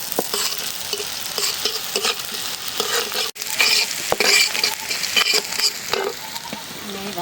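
Noodles fried and stirred in a pan with a little salt, a continuous close sizzle broken by repeated scraping and tossing strokes of the spatula.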